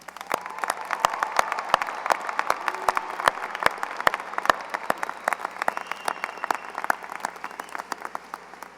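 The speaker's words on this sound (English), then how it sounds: "applause" A graduation audience at a high school commencement bursts into sustained, dense applause, steady clapping from a large crowd continuing for several seconds with no talk.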